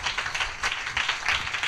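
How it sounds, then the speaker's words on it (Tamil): An audience claps their hands through a church service, a steady, dense patter of applause that carries on without a break. "நல்லா கைத்தட்டி"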